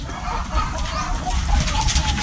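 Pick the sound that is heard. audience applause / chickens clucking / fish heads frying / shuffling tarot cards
chickens clucking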